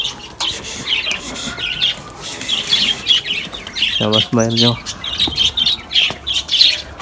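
Chickens cluck and squawk nearby amid chirping birds, with a short burst of loud squawks midway and a voice speaking briefly.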